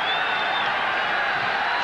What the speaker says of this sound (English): Listen to the support behind them.